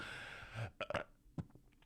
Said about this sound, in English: Well, that was a gnarly fucking burp.